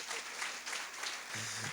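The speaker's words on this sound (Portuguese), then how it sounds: "Aplauda o Senhor Jesus" Church congregation applauding during a communion service, a short burst of broad clapping that is fairly quiet and steady, with a low hum entering near the end.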